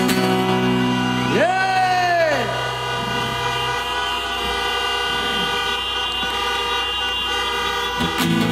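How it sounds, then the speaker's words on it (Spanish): A car horn gives one long honk, clear and fairly close, over a steady drone of engine or traffic noise with tonal hum throughout. "que se suene el claxon"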